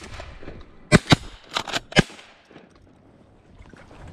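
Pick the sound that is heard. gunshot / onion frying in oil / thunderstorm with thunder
gunshot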